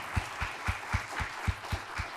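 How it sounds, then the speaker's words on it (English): Audience applause for a conference panel at a coastal resilience session, heard as a steady run of fairly quiet claps with a regular, slightly sparse rhythm, as from a modest crowd in a hall. "let's give the panel a round of applause"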